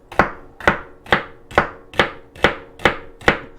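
A knife chopping through a celery heart on a cutting board: eight crisp, evenly spaced chops in a steady rhythm, close and clear, with no voices.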